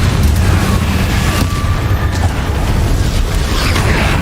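Spell explosions from Confringo and Bombarder casts in the Hogwarts Legacy game, a dense rumbling stream of booming blasts and bursts, loud and steady throughout with no clear gaps.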